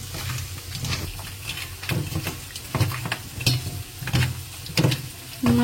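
Bitter gourd (karela) sizzles in a frying pan with salt, chili and turmeric while a spatula stirs and scrapes it in regular strokes, close and clear over a constant frying hiss.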